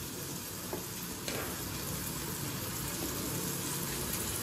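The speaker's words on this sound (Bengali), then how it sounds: "আমি এখন পেঁয়াজটা দিয়ে দিচ্ছি কুচি করে রাখা" Finely chopped onion sizzles in melted butter in a pan for egg soup, a steady, dense frying hiss close by with a faint stirring scrape, no talking.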